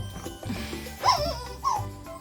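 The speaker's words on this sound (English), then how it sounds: "Just stepped on my dog's toy." A dog's squeaky toy gets stepped on, letting out two short, high squeaks about half a second apart over low room noise.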